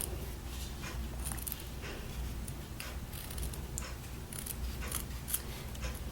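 Scissors snip through fabric along a curved seam with a quarter-inch seam allowance, a series of quiet, crisp cutting clicks at irregular intervals against a low background hum.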